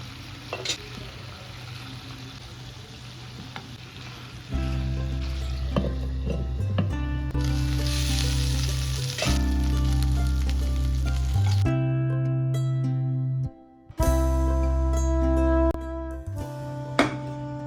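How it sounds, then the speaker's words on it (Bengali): Chicken drumsticks frying and sizzling in a pan, a steady close crackling hiss broken by brief stirring scrapes and a short pause partway through, no talking. "এইবার দেখবে চিকেনে থেকে জল বেরিয়ে আসবে, জল বেরিয়ে এসে চিকেনটা যখন সিদ্ধ হয়ে যাবে"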